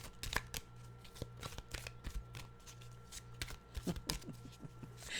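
A deck of oracle cards is shuffled up close in a steady run of quick riffling flutters and soft slaps lasting several seconds, with no one speaking.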